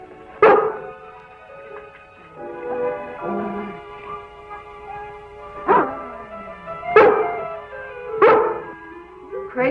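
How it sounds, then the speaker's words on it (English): A female dog barks in short bursts, several loud, close barks spaced irregularly, with some whining and yipping between them, in an old television drama scene. "Looks like she's barking at something back there."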